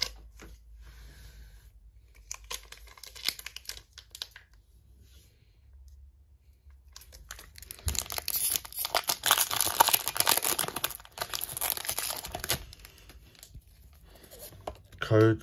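A Pokémon Temporal Forces booster pack being torn open, with crinkling foil and tearing that grow louder and busier in the second half, close to the mic, while a person talks quietly at times.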